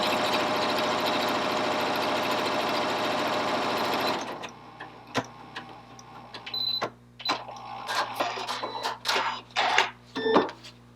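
Janome Continental M7 sewing machine stitching cotton fabric, starting with a loud, steady run of rapid stitching for about four seconds, then stopping, followed by quieter clicks and handling noises.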